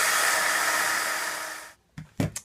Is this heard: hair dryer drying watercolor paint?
yes